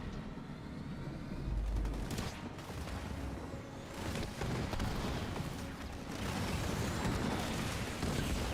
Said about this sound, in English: Why are those missile sounds playing non-stop?